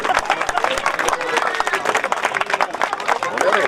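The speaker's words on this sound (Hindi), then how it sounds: "दोस्तों तालियों में कंजूसी ना हो।" Dense applause from a crowd at a shooting ball championship and award ceremony, many hands clapping steadily and loudly throughout, with a busy murmur of voices mixed in.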